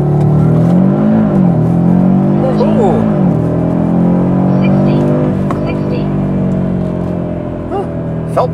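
A 2023 Audi RS3 launches hard from 0 to 60 mph, its engine note loud and close and climbing steadily in pitch, with a brief dip and recovery around each gear change as the run continues.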